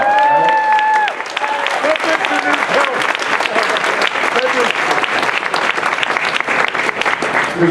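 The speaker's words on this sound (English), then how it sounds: "Let's give her a round of applause." Audience at a get-out-the-vote political rally breaking into loud, sustained clapping and cheering from a large crowd, close and continuous throughout, with a voice heard briefly at the start.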